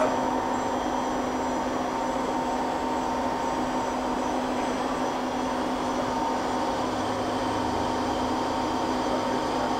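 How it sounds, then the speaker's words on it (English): A 20 by 80 inch ROMI CNC/manual combination lathe spindle runs with a steady machine whine and hum, holding constant and loud throughout without any voices. "the spindle will be increasing in speed"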